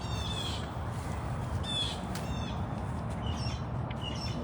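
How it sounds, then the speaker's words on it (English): Wild crows cawing and squawking near food at a big cat rescue, several calls scattered across a steady outdoor background. "The birds in this area know there's food around"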